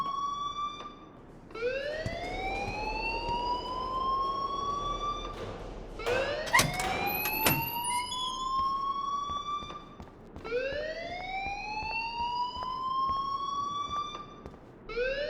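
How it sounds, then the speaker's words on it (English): A fire alarm wails in the Life is Strange video game, with rising whoop-like tones repeating about every four seconds and a brief cluster of sharp clicks and beeps partway through, all with no talking. "please turn off that alarm since that's your job"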